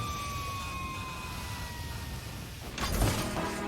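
The Grizzly Pumper Rescue Fire Engine sounds a steady siren tone that slowly glides downward, then a louder burst of broadband clatter breaks in near the end.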